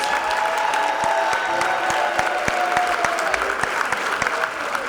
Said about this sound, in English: I think Anderson got a bigger applause, Alex.